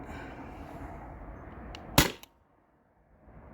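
Sabre 68 home defense launcher fired with a First Strike Roscoe air adapter magazine, a single sharp close pneumatic crack followed by a quick echoing tail, over faint background noise.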